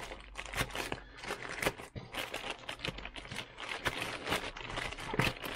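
A large plastic bag crinkles and crackles continuously as it is opened at a workbench, with dense bursts of rustling and sharp crackles close by.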